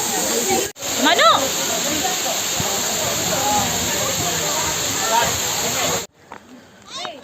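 Katiki Waterfalls in Araku Valley sends down a loud, continuous broadband roar of rushing water heard up close. A brief dropout comes early, and the roar gives way to a quieter stretch near the end, with faint chatter mixed in.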